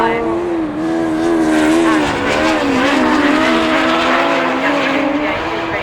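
Autograss race cars roar loudly on a dirt track at St Neots, engines revving hard and wavering in pitch as they slide sideways through a bend, one continuous close-up drone with no break.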